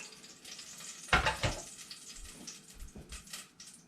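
Foraged food sizzles in a pan of olive oil and butter, a steady close frying hiss broken by a loud burst of spitting and a few scraping stirs, with no talking.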